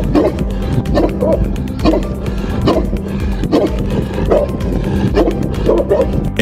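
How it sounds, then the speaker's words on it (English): A Dogo Argentino barks loudly and close, repeating deep, booming single barks in a fairly regular rhythm, about eight or nine over several seconds, heard alone. "the Dogo Argentino has a powerful bark and it's a lot louder than you think"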